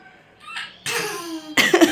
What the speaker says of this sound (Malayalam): അങ്ങനെയാണോ ചുമ കേൾക്കുന്നത്